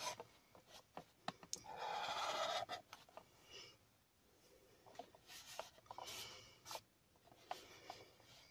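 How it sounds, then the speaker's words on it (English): A marker drawing basic shapes on a cardboard box, with short squeaky strokes and one longer scratchy scribble, quiet and close, broken up by small taps and pauses. "with the marker, I'm kind of just doing basic shapes at the moment"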